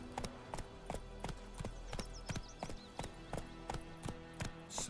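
Hoofbeats of Roach, the horse in The Witcher: Wild Hunt, trotting in a clear, evenly spaced clip-clop rhythm, close and distinct against quiet game ambience.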